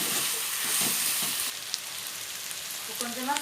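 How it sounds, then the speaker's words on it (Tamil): Onions sauté in a pan for a garlic broccoli dish, a steady close sizzle that drops in level partway through, with faint stirring scrapes and no talking. "வெங்காயம் நல்லா வதங்கிருச்சு."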